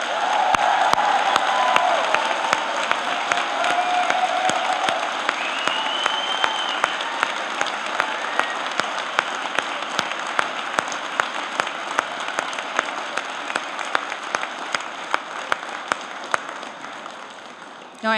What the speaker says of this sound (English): why don't we give a round of applause to the class of 2018?